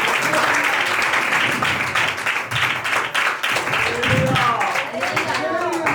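Congregation clapping together in a church service, a dense, steady patter of many hands filling the space, with a voice speaking over it near the end.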